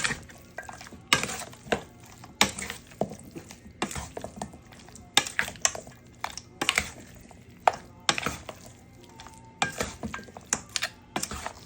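Hands working seasoning into raw goat meat for Guyanese curry goat, a run of close wet squishing and slapping strokes in a steady rhythm, with faint knocks against the bowl and no talk.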